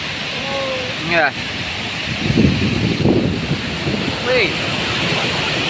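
Spray and rushing water from the large Curug Cihanyawar waterfall form a steady, wind-buffeted roar close to the microphone, while people exclaim briefly over it.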